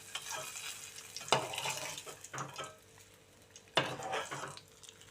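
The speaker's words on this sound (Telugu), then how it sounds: "కొన్ని పచ్చిమిర్చి అయితే వేయించుకుందామండి." Green chillies frying in a cooking pot for a brinjal yogurt chutney, with a soft sizzle under sharp metallic stirring scrapes, two of them loud and close.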